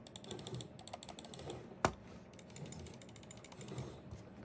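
A rapid run of faint, light gaming mouse button clicks in quick succession, crisp and hollow, with one sharper click standing out midway.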